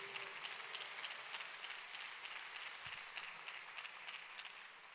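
A church congregation applauds, a faint, steady patter of many hands clapping from a distance, continuing evenly throughout.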